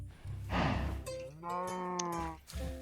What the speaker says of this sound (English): somebody's got to go feed them cows